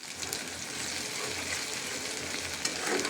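Chickpeas fry in a pan with spice masala added, giving a steady close sizzle with soft stirring scrapes throughout.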